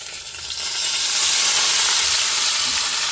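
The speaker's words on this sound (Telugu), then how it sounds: "ఈ టైంలో మనం చామదుంప ముక్కలు వేసేయాలి ఇందులో చూడండి సిమ్లో పెట్టేసుకొని" Taro root pieces fry in a pan over low heat, a loud, close, continuous sizzle that swells after the first second and holds steady with no talking.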